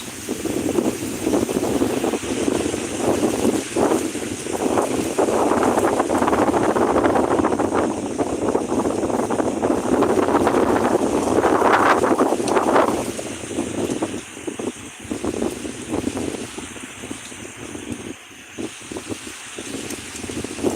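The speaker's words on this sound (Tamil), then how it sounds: "பயங்கரமாக மழை பெய்யுதுங்க" Heavy rain falls amid strong wind, a loud, dense roaring hiss with gusty surges that eases and grows patchier toward the end.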